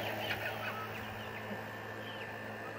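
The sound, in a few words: Polish, Cochin and Silkie chicks peeping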